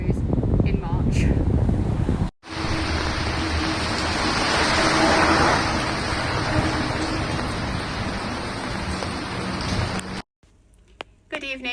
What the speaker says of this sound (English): it is now absolutely torrential raining and we are dripping